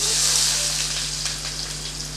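Chopped onion frying in hot oil with popped mustard seeds for a Tamil snake gourd dal kootu, a steady close hiss of sizzling with faint crackles throughout, no talking.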